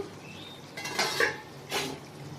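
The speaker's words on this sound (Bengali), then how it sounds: "আমি এবার ঢাকাটা খুলে দেখবো।" A lid is lifted off a cooking pot of boal fish curry with potato and eggplant, giving a couple of soft metallic clinks and scrapes over a quiet kitchen background.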